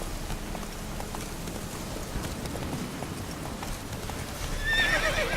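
Hooves clip-clop steadily as a horse moves in The Witcher 3, a regular rhythmic patter at moderate distance with a brief whinny rising near the end.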